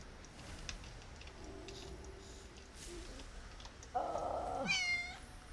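A cat in a house meows twice close by, first a short chirp and then a longer, rising cry, over quiet room noise with faint ticking.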